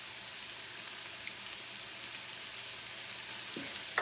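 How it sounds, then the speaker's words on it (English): Olive oil with Parmesan and garlic sizzling steadily in a pan, a continuous close hiss with a brief clink near the end. "Here goes the olive oil with the Parmesan and garlic."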